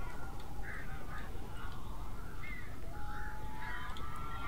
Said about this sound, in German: Ja, da sind so einige Vögel.